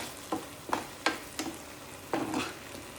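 Curry leaves and mustard seeds are tempered in hot oil for a fish dish, a low sizzle punctuated by six distinct scraping stirs of a spoon in the pan, quiet and with no voices.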